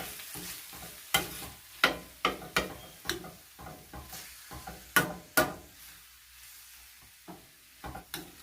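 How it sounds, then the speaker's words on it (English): Seasoned meat mixture for a Jamaican meatloaf, with thyme leaves, stirred in a frying pan: repeated sharp scraping strokes at an uneven rhythm over a soft steady sizzle, close and fairly quiet. "So we just want to stir this until it's cooked"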